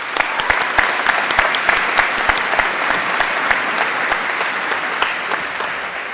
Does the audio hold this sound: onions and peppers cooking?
no